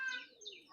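A pigeon in a loft gives a short soft coo and chirp, fairly faint and close, with a brief warbling call in under a second.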